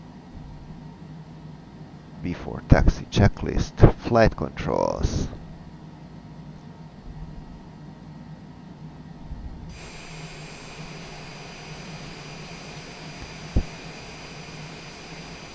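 Cessna Citation Longitude jet engines idle in Microsoft Flight Simulator, a low steady hum that jumps to a brighter, louder whine partway through, with a voice speaking briefly early on.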